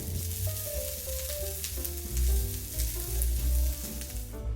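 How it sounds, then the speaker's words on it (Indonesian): Steady oil sizzle with garlic frying in coconut oil in a pan, close and continuous, with occasional stirring scrapes and low cooking clatter. "Tumis bawang hingga harum dan berubah warna."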